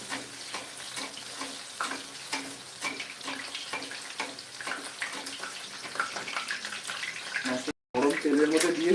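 Fish coated in spiced cornflour sizzles steadily in hot oil, with a continuous crackle and frequent small pops close by. The sizzle is loud and runs throughout, with a brief cut near the end.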